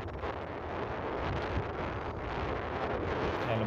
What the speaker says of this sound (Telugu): ఇక్కడ గాలి బాగా గట్టిగా కొడుతుంది.